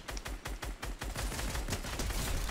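Rapid gunfire in the video game Fortnite: a dense, loud burst of repeated shots, irregular at first then merging into near-continuous automatic fire.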